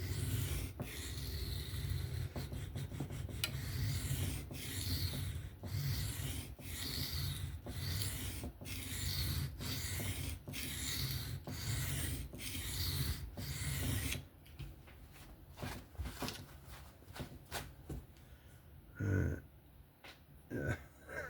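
A knife edge is drawn repeatedly across a Tempest Knives MicroBurst sharpener at about a 15 to 16 degree angle, giving close, rhythmic rasping strokes that slow and thin out toward the end.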